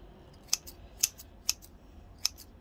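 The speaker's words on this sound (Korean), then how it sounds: "그리고 이 잔뿌리들은 잘라줄게요" Four crisp scissor snips cutting fine plant roots at uneven intervals, each a short sharp metallic click, close up against a quiet background.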